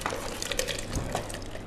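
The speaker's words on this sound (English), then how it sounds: "Mike is just going to pour this in the blender" Breadfruit soup is poured into a blender, a short, close, wet splashing pour with small clinks that runs for under two seconds.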